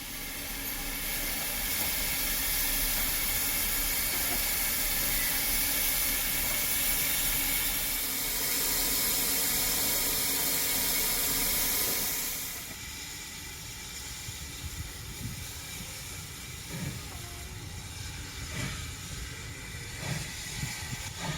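GWR 5700 class pannier tank steam locomotive 7714 at a heritage railway steam gala gives off a loud, sustained hiss of steam that cuts off sharply partway through. Quieter clanks and mechanical rumble follow.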